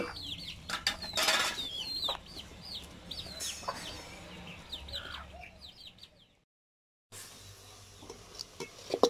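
Chickens cluck and chirp close by with busy pecking and scratching sounds as they eat grated coconut, a brief silent gap, then more soft clucking and taps.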